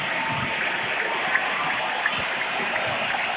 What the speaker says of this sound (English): This crowd continues to cheer for the Warriors